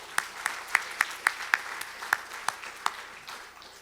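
Audience at an international forum applauding, with a scattered, fairly sparse round of clapping that swells in a few distinct peaks and then fades out over a few seconds, heard from within the hall.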